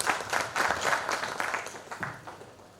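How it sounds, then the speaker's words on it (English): An audience applauds at a literature festival session, a dense patter of many hands clapping at once, loud at first and then slowly thinning out over a few seconds, with no talking. "Let us initiate them the session with a thunderous round of applause."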